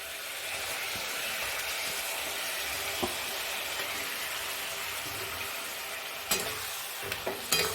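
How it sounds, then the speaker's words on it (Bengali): Grated bottle gourd tipped into a hot frying pan for a Bengali lau chingri curry, giving a loud, steady sizzle that holds for several seconds, with a few sharp clinks and stirring knocks near the end. "এবার আমি গ্রেট করে রাখা লাউটা দিয়ে দেব।"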